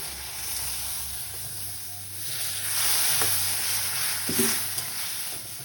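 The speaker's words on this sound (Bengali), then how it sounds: "এখন অল্প অল্প করে আমি জল দেব" Water goes into a pan of roasted semolina (suji), setting off a sharp hissing sizzle that swells midway and then settles into a steady steamy crackle, close and fairly loud.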